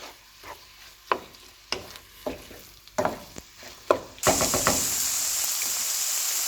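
Lean minced keema with garlic browns in a pan for loaded nachos: spatula scrapes and taps knock sporadically, then a loud, steady, close sizzle takes over and holds to the end.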